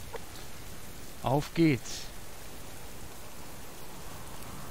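Steady rain falls in the survival game Subsistence, a constant soft hiss throughout, with someone briefly talking over it.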